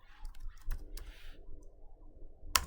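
Soft taps on a computer keyboard, then a single crisp, louder keystroke of the Enter key near the end, heard close in a quiet room.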